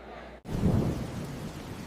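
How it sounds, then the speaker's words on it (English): Steady rain pours down with a low rumble of thunder in a nighttime storm with lightning, loud and close after an abrupt start, continuing without pause. "I'll be praying that the rain and lightning won't harm you"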